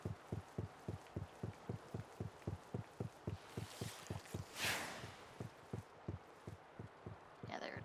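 A steady mechanical whirring pulse in the Lightning Returns video game, beating evenly about three times a second. A soft whoosh swells midway, then the low pulsing carries on alone at low volume.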